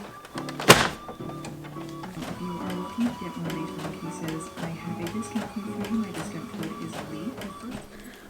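Inkjet printer running off zine pages indoors, starting with a sharp clunk and then a steady mechanical whirring with repeated carriage passes and soft thuds, close and moderately loud.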